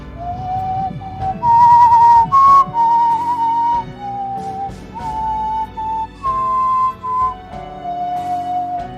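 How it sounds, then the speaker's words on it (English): In a film soundtrack, the wolf's lone melodic whistle holds long, wavering notes over a low, dark background, rising and falling slowly in an eerie, unsettling tune. "the whistle of the wolf"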